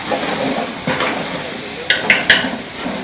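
Garlic, ginger and onions frying in a pan at a Thiruvananthapuram biryani eatery, a steady close sizzle and hiss broken by a few sharp metallic clinks and scrapes of stirring near the end, with no voices.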